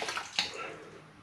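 Running water splashing as an Ascension safety razor is rinsed, a brief faint tap stream with one sharper splash early on, no talking.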